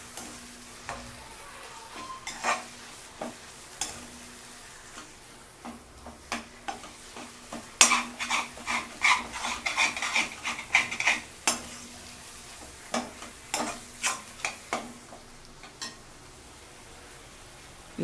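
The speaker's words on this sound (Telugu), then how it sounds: "బాగా వేయించుకోండి. ఇలా వేయించుకోవడం వల్ల ఈ కర్రీ చాలా టేస్ట్ ఉంటుందండి." Potato curry for aloo paratha is stirred and fried in a pan, with a steady run of sharp scraping clicks from the spatula that grow busier midway, over a faint sizzle and with no talking.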